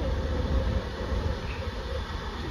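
Transport for Wales Class 67 diesel locomotive departing, a steady low rumble and engine drone held at moderate loudness throughout with no talk.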